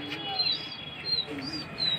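Soft bird calls and faint chirps repeat over a steady outdoor background in Amroha, India, during pigeon flying, with light pigeon cooing tones low in the mix.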